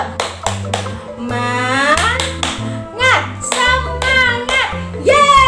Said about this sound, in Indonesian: Sebelumnya kita tepuk semangat dulu yuk.